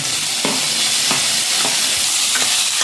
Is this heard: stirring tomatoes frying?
yes